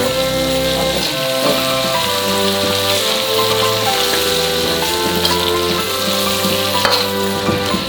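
Cubed chicken breast fries in a pan, a loud, steady sizzle running throughout under sustained tonal background music.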